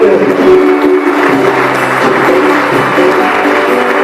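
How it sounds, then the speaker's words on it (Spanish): A church congregation applauds during a service, a dense, steady wash of clapping that fills the space at high level throughout with no pauses. "Denle un aplauso por lo que la palabra va a cortar, por lo que la palabra va a penetrar."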